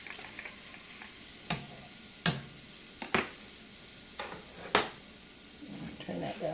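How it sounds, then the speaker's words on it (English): About three tablespoons of butter sizzle in a pan as a steady hiss, broken by repeated sharp utensil scrapes and stirring knocks against the pan. "I'm going to put in about 3 tablespoons of butter."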